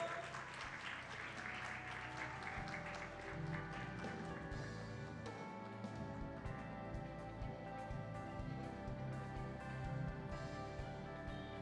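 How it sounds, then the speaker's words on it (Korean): Faint, distant applause from the congregation at a church youth service, a steady patter of many hands clapping at low level throughout. "박수 한번 해주세요."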